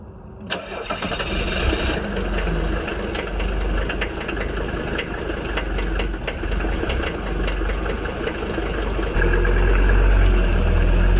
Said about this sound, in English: I let the car warm up for a while. I mean, it's a diesel, it's an old diesel